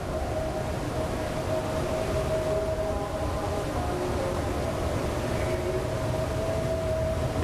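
Wailing air raid sirens drone steadily in the distance over a constant rumbling background in Kuwait City during the Iraq War, the tone holding and slowly wavering without a break.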